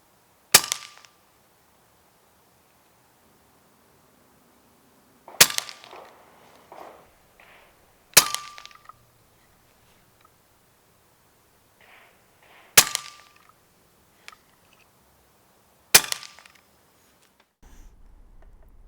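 An Umarex Notos Gen 2 air rifle fires Barracuda pellets: five sharp, close cracks spaced a few seconds apart, each followed by faint clicks of cycling the action, in otherwise quiet surroundings.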